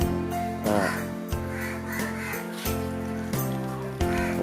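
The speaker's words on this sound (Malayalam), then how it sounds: "നമ്മളെ കാക്കു ഇതാണ് കാക്കു" A young crow in Kerala calls with a run of harsh, repeated caws, loud and close, coming in uneven bursts with short gaps between them.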